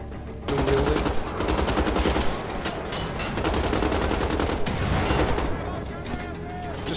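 Sustained rapid gunfire from the video game Wolfenstein The Old Blood, a loud continuous burst of automatic shots that stops abruptly near the end, with a player's voice faintly mixed in.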